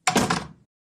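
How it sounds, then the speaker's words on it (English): One short wooden thunk and rustle as a door opens in a storybook sound effect, close and loud, then fading quickly into silence. "The door is open"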